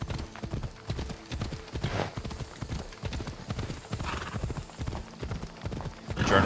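Steady rhythmic clip-clop of horse hooves trotting in Assassin's Creed Odyssey, close and continuous, with a brief whinny near the end.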